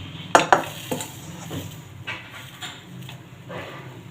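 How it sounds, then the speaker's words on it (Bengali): A metal tawa griddle pan is set down on a gas stove in a home kitchen, giving two sharp close clanks followed by softer scrapes and knocks of cookware, with no talk. "তাওয়াটা বসিয়ে দিয়েছি।"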